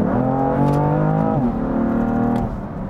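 BMW M3 F80 engine heard from inside the cabin while driving, a steady loud drone that shifts pitch midway as the revs change, with no talking.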